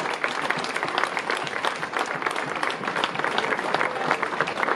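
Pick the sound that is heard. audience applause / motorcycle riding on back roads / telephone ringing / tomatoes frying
audience applause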